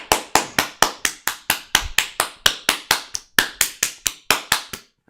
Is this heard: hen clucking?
no